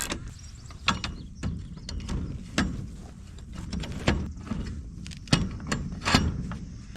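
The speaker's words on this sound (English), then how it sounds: "I'm just ratcheting this bad boy down here" A socket wrench ratchets a bolt tight on a chicken tractor lift, giving quiet, close clicking runs broken by sharper metallic knocks and clanks.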